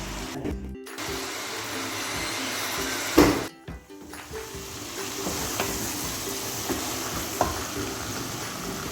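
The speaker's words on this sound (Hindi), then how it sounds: "इसको थोड़ी देर के लिए भूनना है ताकि ये अच्छी तरह भून जाए।" Onions for a restaurant-style mutton stew fry in a pan with a steady loud sizzle, broken by scraping stirs and a few sharp clinks of the spoon against the pot.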